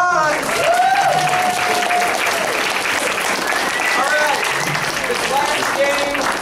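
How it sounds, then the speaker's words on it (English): Sustained audience applause at a charity comedy show, loud dense clapping from a crowd with cheers and whoops rising over it throughout. "Give him a round of applause"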